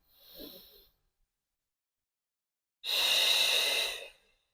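A person breathes deeply during a gentle postpartum recovery exercise: a short soft breath, a pause of silence, then a long, strong inhale through the nose, close and clear.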